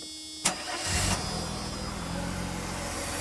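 A Mercedes with CIS fuel injection cranks briefly after a key turn and catches, settling straight into a steady, smooth idle heard up close, with no voices.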